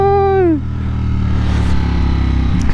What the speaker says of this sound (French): En tout cas, c'est une bonne moto